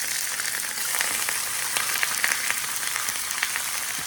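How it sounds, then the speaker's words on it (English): A boneless pork shoulder roast browning in a hot pan, with a steady, close sizzle full of crisp crackles and spits, running continuously at an even level with no voices. "boneless pork, roast shoulder. Until it's all nicely browned."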